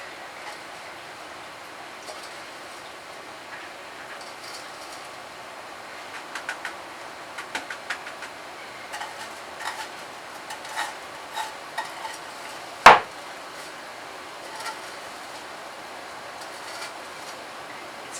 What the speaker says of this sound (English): So we need to scrape it off the bottom and then put it on here.